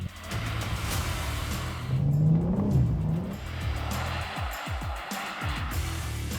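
A car engine revved hard with too much throttle in first gear, a loud rising and falling roar peaking midway, then uneven lower engine pulses as the revs settle, close by.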